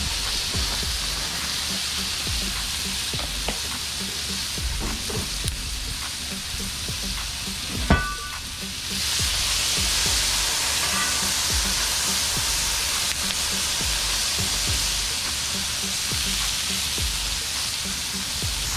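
Potatoes and vegetables sizzle on a Char-Griller Premium flat iron griddle, a steady hiss that swells louder about halfway through after a brief metallic clink, with no talk.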